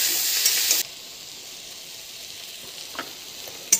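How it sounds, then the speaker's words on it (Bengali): Ivy gourd frying in a pan with turmeric and salt gives a bright sizzle that drops to a soft, steady hiss after the first second, with a couple of faint stirring clinks. "এবার কুঁদরিগুলো দিয়ে দেবো। দিয়ে দিচ্ছি হলুদ, দিয়ে দেবো লবণ, দিয়ে বেশ ভালো করে নেড়ে দেবো।"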